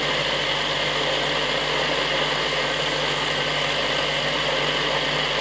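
A small motorcycle's electric motor runs steadily with a smooth, even hum and faint high whine, close by, with no other sounds.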